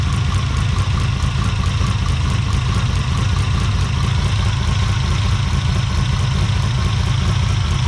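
Ferrari 330 V12 running steadily at idle during carburetor tuning, a loud continuous close-up engine drone with no talk over it.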